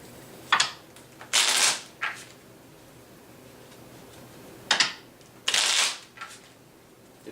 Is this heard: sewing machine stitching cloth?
no